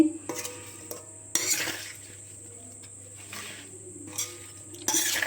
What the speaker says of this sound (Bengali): এভাবে ভালোভাবে আমি মশলার সঙ্গে আমগুলো মাখিয়ে নেব